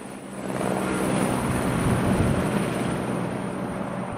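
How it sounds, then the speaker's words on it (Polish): A helicopter lands as a sound effect, a loud steady rotor-and-engine roar that swells and holds, broadband and close, with no voices over it. "Na dachu naszej szkoły wylądował właśnie helikopter"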